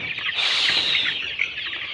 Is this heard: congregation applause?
no